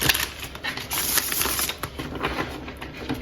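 A deck of tarot cards shuffled by hand up close, with rapid, crisp flicking and clicking of cards in quick, uneven bursts that are loud and alone.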